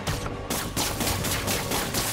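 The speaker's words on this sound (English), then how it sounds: "Ranged enemies incoming. Watch out for gunfire." Rapid gunfire bursts from ranged enemies during combat in Marvel's Spider-Man: Miles Morales, loud and continuous throughout with dense overlapping shots and no talk.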